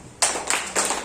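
A few sharp bursts of hand clapping from a small audience at a business talk, three or four quick close claps within about a second.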